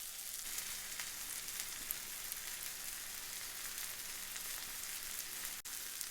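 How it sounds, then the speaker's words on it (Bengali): Onions fry in a pan for a cheese steak sandwich, making a faint, even hiss of sizzling that holds steady throughout, broken only by a single brief click near the end, with no one talking. "পেঁয়াজ ভাজা হতে হতে চলুন দেখি"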